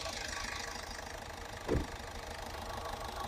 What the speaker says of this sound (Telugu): ఇంజన్ మాత్రం చాలా స్మూత్ ఉందండి.